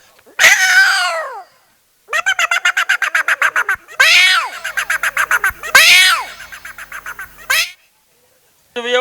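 A comedian at a community gathering imitates cats, producing drawn-out meows and a rapid stuttering yowl, alternating like two cats facing off, loud and close.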